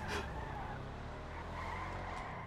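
A car in the video game GTA drives off and skids, tires squealing over a steady engine roar that runs throughout, loud and continuous with brief sharper screeches.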